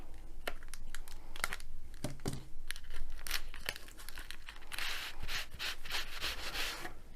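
Packaging of a diamond painting parcel from an online store being cut open, with close rustling, crinkling and scraping, sharp snips and crackles, and a denser rasping burst toward the end.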